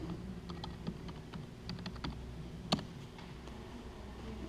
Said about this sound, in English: I'll jam in my password.